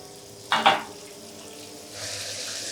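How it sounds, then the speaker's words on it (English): Fresh tomatoes tipped into browned onions in a pan for keema aloo: a short sharp splattering burst, then a quiet pause before a steady sizzle rises, heard close with no talking. "Now at this stage, we'll add the fresh tomatoes as well."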